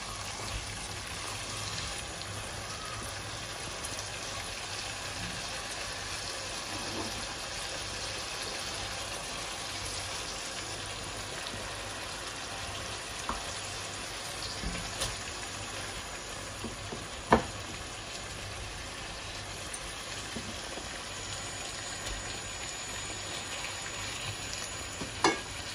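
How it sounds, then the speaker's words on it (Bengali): Pieces of fish sizzle steadily in hot oil in a pan, a continuous close crackle with occasional sharper pops over about twenty-five seconds. "এবার আমি মাছগুলো দিয়ে দেবো একটা একটা করে।"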